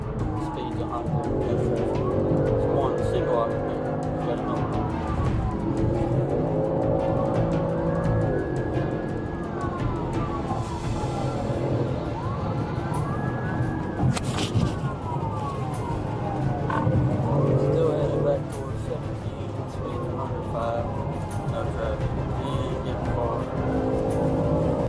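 A police siren wails in repeated rising and falling sweeps, with engine and road noise from a South Carolina Highway Patrol trooper pursuing a speeding sport motorcycle along Highway 31 in Horry County, steady and fairly loud throughout, with voices over it.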